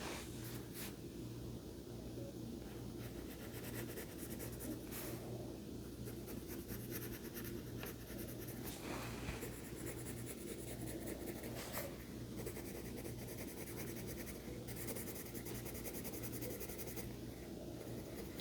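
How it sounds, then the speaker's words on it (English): A colored pencil in green scratches steadily across paper while filling in a children's drawing, a continuous soft rubbing with rhythmic back-and-forth strokes, close and quiet, with no talking. "Now I'm going to go over the rest with this green color here, just to fill in any areas that might be a little faded."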